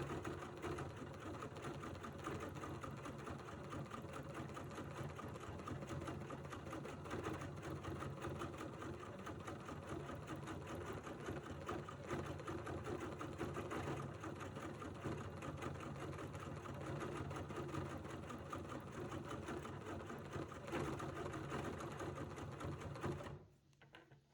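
A sewing machine stitches steadily over couched fibers for about 23 seconds, a dense, continuous whirring hum that runs alone at a loud, even level before stopping abruptly at the end.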